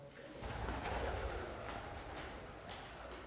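Pigeons coo softly nearby at Sheopur Fort in India, low throaty calls over a faint ambient hum, with no talking.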